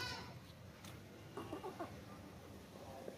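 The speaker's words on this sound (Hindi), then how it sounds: "लंबे कानों वाला देसी बकरा है" A long-eared desi goat gives a short bleat partway through, faint against a quiet outdoor background with low ambient noise.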